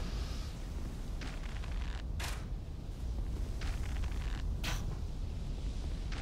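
Game mechanism in Dark Souls 2 creaking as it rises, a grinding, creaking drone with a few sharp clanks over a steady low rumble, fairly loud and without talk.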